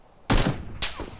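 Two gunshots from the video game PUBG, a loud close blast followed about half a second later by a second, slightly softer shot, with short decaying tails.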